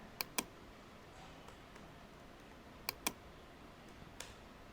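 A handful of sparse, faint clicks come from a computer keyboard while typing in Photoshop 7.0, arriving in small pairs separated by long quiet gaps.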